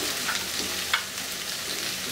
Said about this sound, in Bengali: এখন এইগুলাকে আমি একটু ভেজে নেব